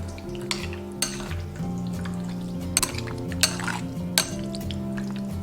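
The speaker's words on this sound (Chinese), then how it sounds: "直接把酱汁倒入鱼肉里面，然后给它翻拌均匀，让每一块鱼肉都裹着这个酱汁" Pieces of fish are tossed and mixed with sauce in a bowl, soft wet stirring with a few clinks of utensil on dish, over a steady musical background.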